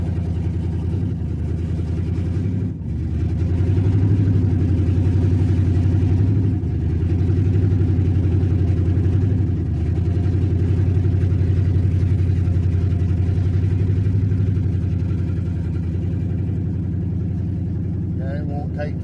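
A vehicle engine that won't take throttle drones steadily at a low, even pitch, running close and loud throughout without any rising rev, while a voice speaks over it.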